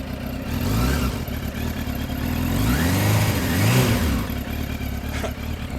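A 2006 Suzuki GSX600F Katana with 9k miles runs close by, its warm engine idling with a rough, uneven burble that swells into a couple of revs before settling back.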